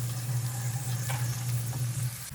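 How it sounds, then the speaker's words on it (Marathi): Tomatoes sautéing with golden fried onions in a pan, a steady close sizzle with a low hum beneath and a couple of faint stirring scrapes, no voices. "तर टोमॅटो व्यवस्थित परतून घेऊया."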